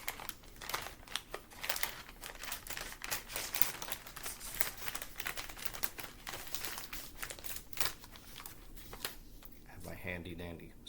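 A mail package holding two large used books is opened by hand, with a steady stream of crinkling, tearing and rustling paper close by and a voice briefly at the end.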